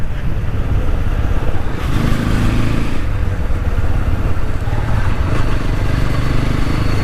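TVS Apache RTR 200 4V motorcycle with dual-channel ABS being ridden, its engine a steady loud drone with wind rumble throughout, up close and without talk.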